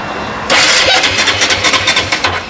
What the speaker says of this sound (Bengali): চলো একবার স্টার্ট করে বন্ধুদেরকে গাড়ির সাউন্ডটা শুনিয়ে দিই।